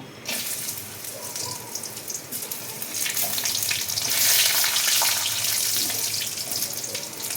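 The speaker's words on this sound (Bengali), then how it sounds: "প্রথমে কাজু কিশমিশটা একটু ভেজে নেব" Cashews and raisins fry in hot ghee, giving a steady, dense sizzle that swells louder midway, close and continuous with no voices over it.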